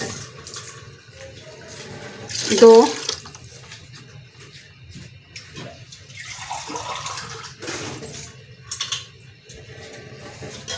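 Water is poured from a glass onto soaked rice in a pot while cooking chicken, potato and pea pulao, a splashing pour surfacing between moments of someone speaking.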